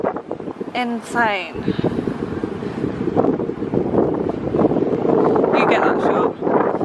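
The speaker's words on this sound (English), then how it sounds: "oh my god, it's so windy!" Strong wind gusts across a New York City street, a steady loud rushing roar buffeting the microphone throughout, with people talking over it.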